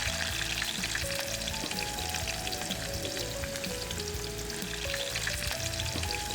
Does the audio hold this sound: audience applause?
no